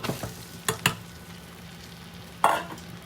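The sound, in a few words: mango ginger pieces frying in hot oil with chili powder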